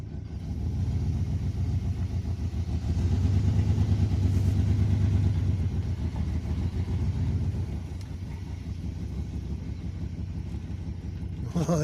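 A 1992 Chevy 4x4 pickup truck pulls away on a test drive after a tuneup, its engine a steady, close, low rumble that swells in the middle and then eases to a lower drone.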